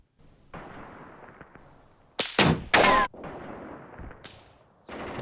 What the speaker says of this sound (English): Yeah, somebody's shooting at them.